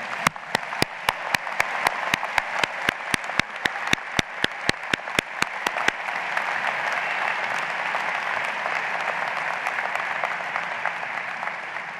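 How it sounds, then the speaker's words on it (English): Sustained applause from a large audience at a law school convocation ceremony for the class of 2017, steady and full throughout, with a few sharp regular clicks over the first half. "join me in applauding all of those on whose shoulders you stand"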